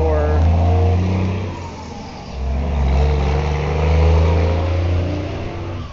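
Vehicles on a highway rush past in steady waves of engine and road noise, a couple of swells rising and falling close by, while the engine of a 1993 Ford Escort LX idles or runs nearby.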